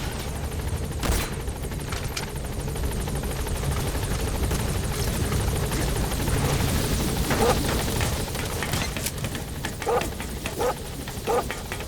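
Helicopter in MGSV: The Phantom Pain approaching a landing zone, a steady loud rotor drone filling the whole stretch, with a few sharp barking-like bursts near the end.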